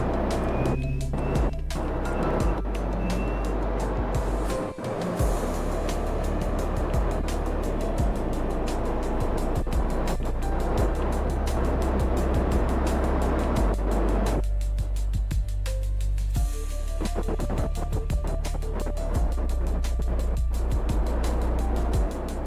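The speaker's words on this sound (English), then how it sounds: "Okay, engage the drives." Spacecraft drives powering up in Kerbal Space Program, a steady low rumbling engine drone with layered mechanical hum that shifts in pitch and intensity over about twenty seconds, sustained and fairly loud without speech.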